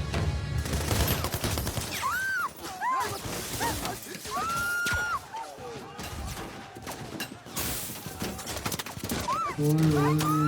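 Bursts of rapid gunfire crackle amid horse whinnies and hoofbeats, with people talking loudly over the chaotic action soundtrack.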